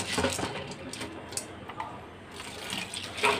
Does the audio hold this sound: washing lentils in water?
yes